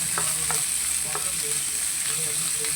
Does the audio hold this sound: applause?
no